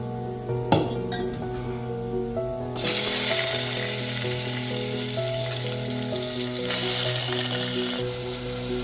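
Potatoes dropped into hot oil that already holds softened, reddish-brown onion petals for a Maharashtrian spiced potato dish, bursting into loud, steady frying and sizzling after a quiet start, with a second surge of sizzle later and some faint stirring clatter.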